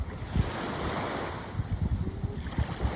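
Wind blows across a site with a small home wind turbine, roaring steadily with rumbling gusts that buffet the microphone, loud and without any voices.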